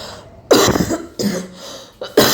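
Three sharp, close coughs in quick succession, loud and harsh, separated by brief quieter pauses.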